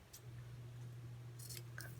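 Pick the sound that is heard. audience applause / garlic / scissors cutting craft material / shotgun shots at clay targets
scissors cutting craft material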